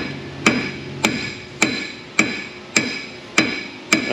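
Steady, evenly spaced mallet blows ring out on a seized brake part of a 2000 Chevy Silverado, seven in a row, each a sharp close clank with a short metallic ring.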